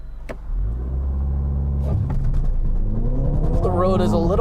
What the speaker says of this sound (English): Listen to that exhaust. It snarls when you really get on it.